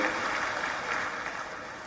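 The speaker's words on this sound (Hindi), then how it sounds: "आप सभी पूरे मंच के लिए जरा ताली बजा दीजिए एक बार, और एक बार अपने आप के लिए ताली बजा दीजिए।" Audience applauding in a large hall at the Global Investors Summit 2025 in Bhopal, a dense continuous wash of clapping that holds steady and loud for the whole short stretch.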